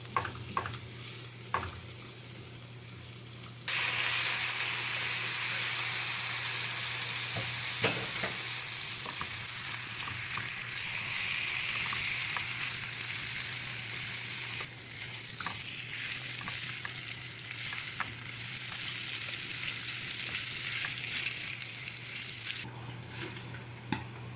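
Pork belly liempo frying in a pan in a provincial kitchen, a steady loud sizzle running throughout, broken by several scraping stirs and knocks of the utensil against the pan.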